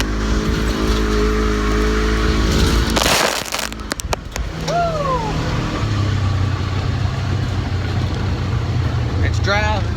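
A Polaris Ranger 900 Highlifter edition UTV drives and turns a donut, its engine loud and close with a sudden burst of noise partway through and tires rumbling on the ground, while someone talks over it.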